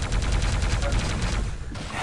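Rapid plasma gun fire in a Quake match, a fast dense stream of repeated energy shots close and loud, continuing for about a second and a half before tapering into other game noise.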